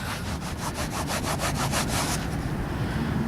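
Crusted old Australian penny rubbed briskly against trouser fabric, a rapid rhythmic back-and-forth scuffing of about a dozen strokes, close and fairly loud, then fading into rustle.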